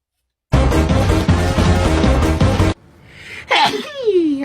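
A sneeze, heard just after loud music cuts off: a sharp breathy burst followed by a rising, voiced squeal-like tail, close and fairly loud.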